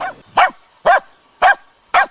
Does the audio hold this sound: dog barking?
yes